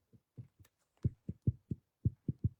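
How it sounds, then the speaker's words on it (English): A steady heartbeat, likely amplified through a stethoscope or monitor, thumps in low, regular pulses, about eight beats over a couple of seconds after a few softer opening ones, close and alone with no talk. "you guys can hear that? That's a heartbeat."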